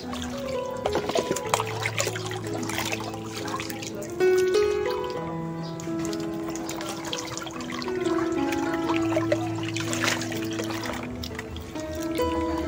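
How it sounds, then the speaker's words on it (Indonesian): Water is poured and splashed over potted Cattleya orchids in a steady trickle with dripping, running on close by throughout under light background music. "Kalau tidak memungkinkan direndam, disiram aja sudah cukup."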